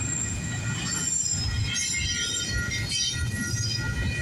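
A CPKC intermodal freight train rolls past with a steady loud rumble of cars while the wheels squeal high and continuously, close by and with no talking.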